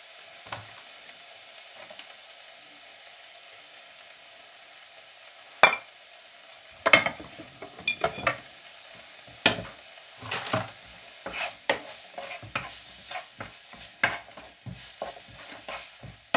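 Fish cooking in a pot at home, a soft steady sizzle broken by scattered clicks and scrapes of stirring that grow busier over time, close and alone without talk.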